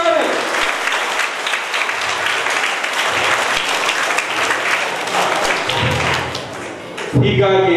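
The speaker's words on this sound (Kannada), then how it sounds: "ಜೋರಾಗಿ ಚಪ್ಪಾಳೆ ತರ್ತೇವೆ" A school audience gathered for a zonal-level talent festival breaks into loud, sustained applause, a dense wash of many hands clapping close by that dips briefly near the end before swelling again.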